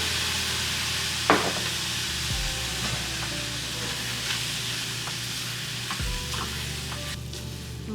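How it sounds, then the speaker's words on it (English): Beans sizzle steadily in a frying pan as pickled jalapeno juice is added, with a continuous hiss, occasional stirring scrapes and a few sharp clacks throughout. "And then I'm gonna add in some pickled jalapeno juice."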